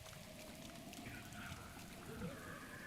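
Steady rainfall in the video game Zelda: Breath of the Wild hisses softly in the background, a faint continuous patter under quiet game ambience.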